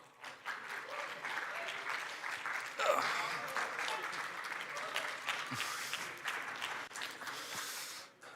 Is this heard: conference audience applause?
yes